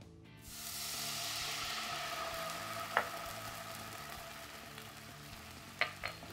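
Red wine seafood sauce with cultured butter reducing in a pan gives a steady, soft sizzle and hiss that holds evenly for several seconds, punctuated by a couple of faint clicks, fairly quiet and without speech.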